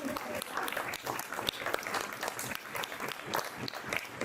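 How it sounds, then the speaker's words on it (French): Audience applause at a summer political conference, a sustained crowd clapping with scattered sharper claps, moderately loud and fairly close, with some voices mixed in. "que je vous demande d'applaudir."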